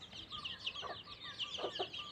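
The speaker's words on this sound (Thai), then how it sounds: "มาอยู่กับน้องไก่" Chickens cluck softly and repeatedly in a ground coop on a morning, faint and somewhat distant, with short chirpy calls scattered through and no one talking.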